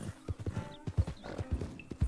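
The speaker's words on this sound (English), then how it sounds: "I'm pushing the horse really hard." Horse hooves galloping in Red Dead Redemption 2, a quick, steady run of close clip-clop hits across the whole stretch, fairly loud against a low rumble, with no voices.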